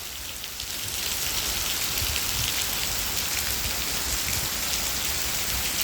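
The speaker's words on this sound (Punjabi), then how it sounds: "ਬਹੁਤ ਜ਼ਿਆਦਾ ਮੀਂਹ ਹੈ" Heavy rain falling in Rajasthan during a prolonged downpour, a dense, constant hiss of drops on surfaces that swells after the first second and stays loud and even, with no voices.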